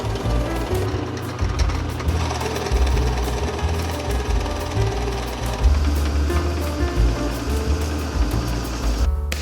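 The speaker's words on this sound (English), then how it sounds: "drilled some holes for 3/4 inch wood dowels and a 3-inch threaded rod" A power drill bores holes into glued-up maple pieces for 3/4 inch wood dowels, a steady loud buzzing whine with a rough, chattering texture that runs without a break.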